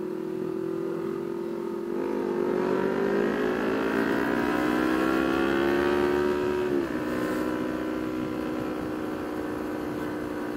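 Race car engine on the road behind, revving up into a loud sustained climbing whine that rises in pitch for several seconds, then drops off, heard from inside a moving vehicle.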